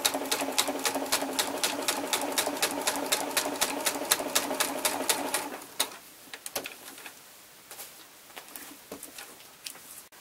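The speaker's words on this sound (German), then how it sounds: "Wenn ich das jetzt nähen will, das schafft die Nähmaschine auch mit einem etwas größeren Stich." A sewing machine fitted with a walking foot stitches through layered outer fabric at a longer stitch length, a fast, steady run of even needle strokes for about five seconds, then stops, leaving only soft handling clicks and rustles.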